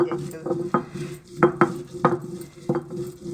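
A chutney of roasted chillies is ground by hand on a traditional stone grinder (ammikkal), producing a series of close, hard stone knocks and scraping strokes at an uneven rhythm.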